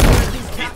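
The Warthog vehicle's turret fires in the Halo video game. It is a short, loud, close burst of rapid automatic gunfire.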